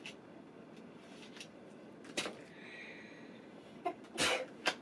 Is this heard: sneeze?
yes